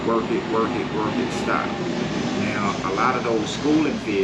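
An airplane passes overhead on a summer bass-fishing outing, its low, steady engine drone running under a man's close speech.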